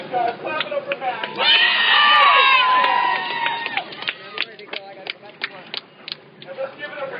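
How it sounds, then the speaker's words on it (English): A peace rally crowd claps and cheers for Max, loud rhythmic clapping with shouts and whoops peaking early, then thinning to scattered claps over chatter. "let's clap it up for Max, guys"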